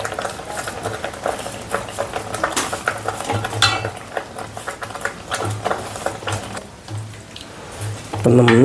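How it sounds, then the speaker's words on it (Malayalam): Sliced banana is stirred into kalan, a Kerala yogurt-coconut curry, in a pan, with scraping and clinking of a spoon against the metal over a soft simmer; the strokes come in uneven bursts, then louder handling at the end. "അപ്പം നമ്മൾ ഇളക്കി യോജിപ്പിക്കാം."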